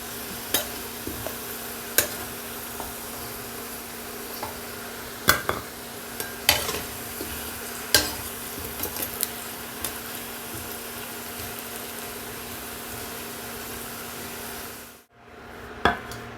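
Potatoes fried in oil are stirred in a pan, a low, steady sizzle broken by repeated scraping and clinking of the spatula against the pan, with no speech.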